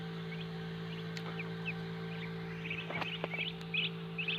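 Freshly hatched Chinese goose goslings in an incubator give faint, scattered high peeps and chirps, growing busier toward the end, over the steady low hum of the machine.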